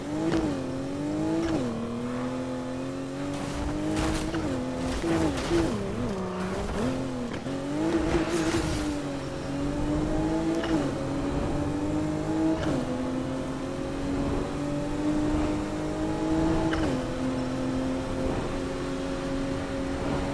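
A race car engine drones steadily throughout a video game race at night, its pitch rising and falling with gear shifts and occasional tire squeals, loud and continuous with no talk.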